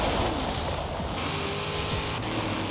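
A car engine in a racing simulator game played on a Logitech G920 wheel, a continuous droning motor under a constant wash of road noise, steady and fairly loud with no talk.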